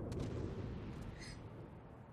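Secondary battery guns firing aboard the Ochotnik, a Russian premium destroyer in World of Warships, a loud dense rumbling barrage of overlapping booms with a brief sharper crack partway through.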